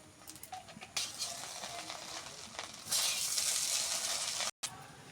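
A khud (broken rice) chorchori dish is stirred in a pan after raw mustard oil is poured over it, giving a steady sizzle and scraping that surges louder partway through and then cuts out briefly.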